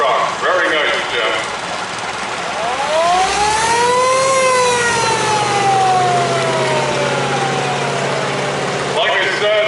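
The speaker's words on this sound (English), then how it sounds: "this is another flathead V8" Antique Sanford fire truck with a flathead V8 at an antique truck show parade: a steady, loud engine idle runs throughout, and a siren wail rises and falls over it midway.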